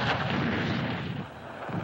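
Artillery salvos from the Vietnam War battle at Khe Sanh, a continuous heavy rumbling barrage of overlapping blasts that stays loud throughout with no voices.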